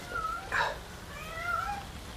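A male cat meows indoors, a couple of short, moderately loud wavering calls close by with a quieter drawn-out one after, and no talking over them.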